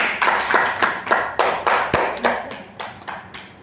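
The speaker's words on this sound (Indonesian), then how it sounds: "Tepuk tangan" Slow, even claps ring out about three times a second, fairly close and without any talk, like a small group applauding in a room.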